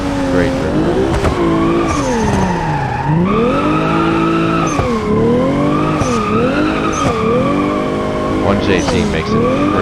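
A drifting car in BeamNG with a 1JZ engine howls and revs while its tires squeal continuously, the pitch sweeping up and down through long slides, loud and close with talk over it.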